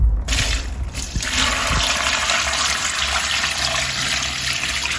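Water pouring from a leaky watering can with a hole in it, a steady close splashing trickle that starts after a brief clatter and runs on evenly to the end.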